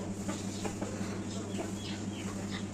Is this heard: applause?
no